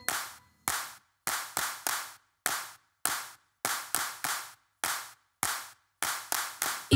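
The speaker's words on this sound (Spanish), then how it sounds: "Esta última vez, solo aplaudan." Group hand claps keep time with a children's song about a farmer's dog named Bingo, landing in short bursts of two or three sharp claps separated by pauses, close and alone with no singing.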